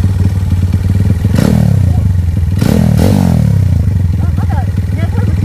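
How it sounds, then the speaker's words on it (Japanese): Vintage Kawasaki Z400FX motorcycle engine idling loudly and steadily at close range, a deep rumbling drone with a couple of light revs, while voices talk over it. "ちょっとエンジンをかけさせていただきます"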